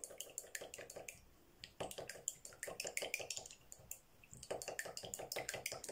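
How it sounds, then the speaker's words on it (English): Water and Mod Podge sealer are stirred together in a small container, giving quick rhythmic scraping and sloshing strokes close up in repeated bursts with a brief pause, and no talk. "And give it a good stir."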